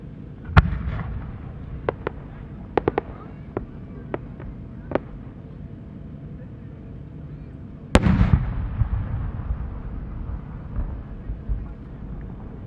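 Firework shells from a new-design collection by Shinshu Enka Kogyo burst at the Omagari fireworks spring show, a series of sharp separate pops in the first seconds, then one loud boom at about eight seconds with a long crackling, rumbling tail, heard from a distance.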